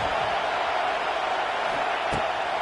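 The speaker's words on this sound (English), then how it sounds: "Listen to this crowd just shaking the girders of this place" Stadium crowd roaring at a football game during a defensive stand, a dense, loud, continuous wall of cheering that fills the space, with a brief sharp thump near the end.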